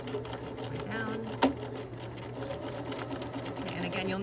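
A sewing machine hums and stitches steadily at close range, sewing an invisible zipper very close to the zipper teeth, with a brief sharp click partway through.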